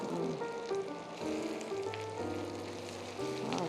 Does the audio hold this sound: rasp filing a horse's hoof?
no